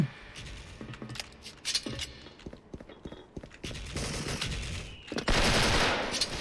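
M4A1 rifle fire in Special Force cracks out in quick bursts and single shots, sharp and close, sputtering irregularly before a heavier sustained volley near the end, with no voices.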